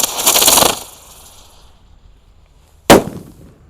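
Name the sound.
super blitz jumbo firecracker exploding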